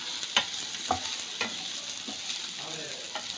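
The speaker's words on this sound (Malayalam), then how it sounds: "ബ്രൗൺ ആവുന്നവരെ നമുക്കൊന്ന് സോട്ട് ചെയ്യാം" Ingredients for paneer butter masala sauté in a pan until browning, a soft steady sizzle with periodic scraping stirs, close and fairly quiet.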